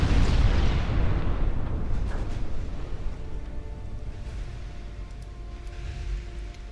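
Torpedo hits on warships in the naval strategy game Ultimate Admiral Dreadnoughts, a loud rumbling explosion fading slowly into a long boomy decay with faint crackles, no talking.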